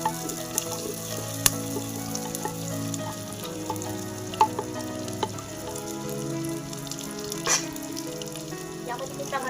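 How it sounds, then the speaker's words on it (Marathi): Onion fries in a pan for chicken biryani with a continuous close sizzle, punctuated by sharp clinks and scrapes of stirring against the pan, at moderate loudness and without talking. "आपल्याला कांदा पण छानपैकी भाजायचा आहे."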